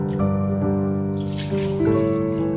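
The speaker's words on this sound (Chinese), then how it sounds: "首先清洗蘑菇" Mushrooms rinsed under a running kitchen tap give a steady splashing flow of water over a sustained tonal background, with a brighter gush partway through and no talk.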